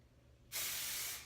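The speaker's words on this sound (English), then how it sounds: "I'm gonna pick up sections and I'm gonna spray this from the root" After a quiet moment, a hairspray aerosol hisses close up onto hair roots in one continuous burst, then tapers slightly.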